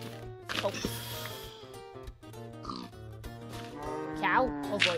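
A Minecraft pig oinks and snorts in a few short grunts while players talk over it, their voices dominating most of the stretch.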